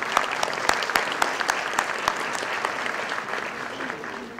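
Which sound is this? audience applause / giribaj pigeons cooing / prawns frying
audience applause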